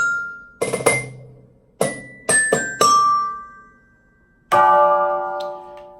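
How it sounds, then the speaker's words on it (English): Tubular bell tones are triggered from a Roland SPD-20 drum pad, with a handful of separate bright metallic strikes spaced apart, each ringing and fading before the next. "then I have my tubular bells at a D and an E"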